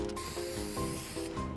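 Spray paint hisses in rapid bursts as a shark gets tagged in Fortnite, a loud, continuous rushing spray with rhythmic rubbing pulses and no talking.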